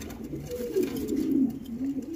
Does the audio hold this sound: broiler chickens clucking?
no